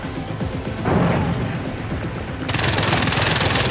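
In the video game Far Cry 4, a grenade blows up with a loud burst followed by heavy, rapid gunfire that continues as a dense, roaring barrage.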